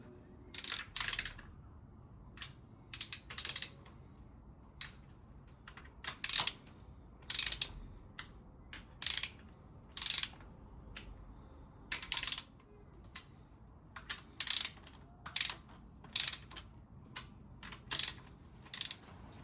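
Ratchet tightening rocker cover bolts on a Honda CRX engine, with repeated short bursts of clicking and brief pauses between them, close and crisp against a quiet background.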